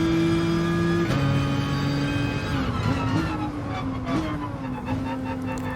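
Mustang race cars in Gran Turismo Sport roar with steady, loud engine tones that shift pitch through gear changes and revs as they battle into the first turn.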